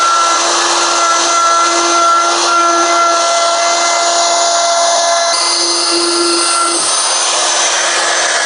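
A 1/4-inch router with a router bit cuts along a wood edge, giving a loud, steady high-pitched whine with a constant motor tone that shifts slightly partway through, running continuously with no talking.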